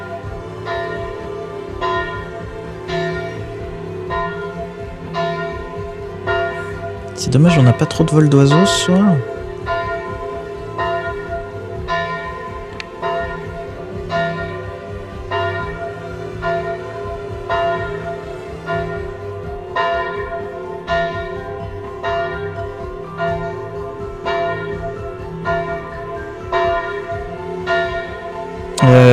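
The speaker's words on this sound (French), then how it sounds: "mais là oui on entend surtout les cloches" Church bells by the Loire at Saint-Dyé-sur-Loire ring in a steady, repeating peal that carries on throughout, with a person talking over it and a brief rustle of handling noise partway through.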